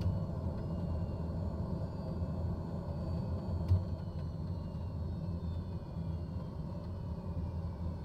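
In a flight simulator game, the turboprop engine of a Black Square TBM 850 runs down with a low, steady rumble that holds even and alone, with a brief faint knock partway through.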